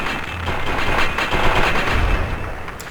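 Rapid gunfire crackles from the video game Fallout 3, a dense burst of repeated shots lasting about three seconds at moderate loudness.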